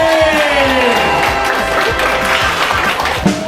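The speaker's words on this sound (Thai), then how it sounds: "ขอเสียงปรบมือให้กับโจ๊กไอศครีม" A stand-up comedy audience claps and cheers for a Thai comedian, a steady wash of applause with distinct hand claps and some voices.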